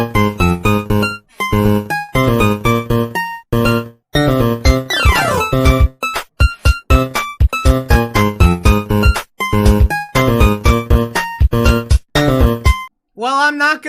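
Music from the video game Sonic Chronicles: The Dark Brotherhood plays loud and alone, with a choppy, busy rhythm broken by short pauses, a sweeping glide near the middle and a rising flourish at the end.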